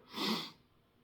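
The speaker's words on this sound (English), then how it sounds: "Sneezing." A single sharp sneeze bursts out and trails off into a breathy exhale, close and fairly loud, with no talking.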